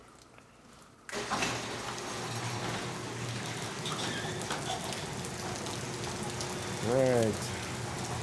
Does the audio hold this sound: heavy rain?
yes